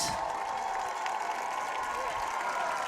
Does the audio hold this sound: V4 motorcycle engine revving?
no